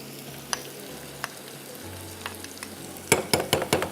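Chopped onion and garlic fry in a pan with a steady, soft sizzle, punctuated by scattered utensil taps and a cluster of louder stirring scrapes near the end.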